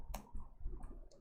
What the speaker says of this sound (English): If I am typing a command print